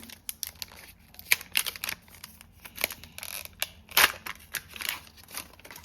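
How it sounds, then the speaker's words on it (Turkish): A Bakugan card packet being opened by hand, giving a run of close, crisp paper and foil crackles and rustles in irregular bursts with no talking. "Kartımızı açalım."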